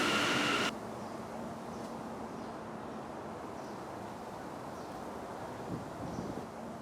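A Tokyo Metro Yurakucho Line subway train at Tatsumi Station produces a low, steady underground rumble with faint airy station ambience, heard alone with no talking.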